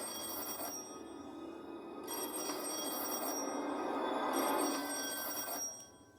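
An old telephone bell rings in repeated bursts with short pauses between them, moderately faint over a steady background hiss, with no talk.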